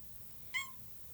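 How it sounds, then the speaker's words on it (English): A cat gives a single short meow, faint and somewhat distant, in an otherwise quiet indoor room. "Hold on, the cat's meowing."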